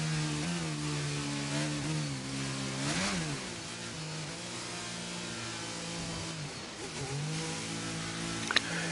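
A racing car engine in a France-set sim racing league race drones and shifts pitch, easing off and rising again through gear changes as the car heads back to the pits. It sounds steady and fairly close, with no talk over it.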